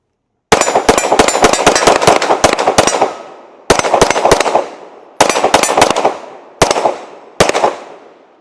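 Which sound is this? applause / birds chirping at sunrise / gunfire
gunfire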